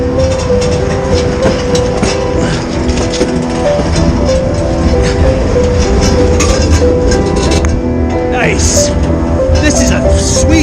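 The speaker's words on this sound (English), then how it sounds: "another train's coming" A freight train rolls past close by, a loud, sustained rumble of heavy wagons with rhythmic clickety-clack from the wheels throughout.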